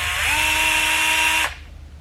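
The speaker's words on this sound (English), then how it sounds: "I need to use my drill to clean off that burr." An electric drill spins close up against the end of a steel brake line to clean off the burr, giving a steady high whine for about a second and a half before cutting off abruptly.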